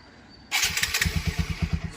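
A TVS Apache RTR 200 4V motorcycle engine cranks and fires up abruptly, then settles into a loud, close, rhythmic idle with steady pulsing beats.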